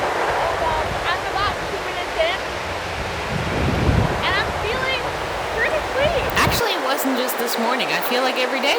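Pouring rain in a jungle, a dense continuous hiss of heavy rainfall with wind-like rushing, while a person talks over it.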